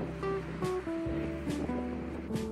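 A car passing on a nearby road amid street noise, its engine tone rising and shifting gradually, with a few soft whooshes over a constant low rumble.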